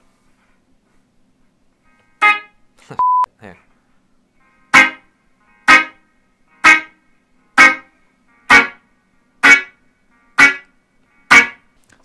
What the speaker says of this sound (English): There are many different ways to play a guitar skank